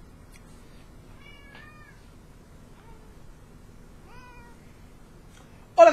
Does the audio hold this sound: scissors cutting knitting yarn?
no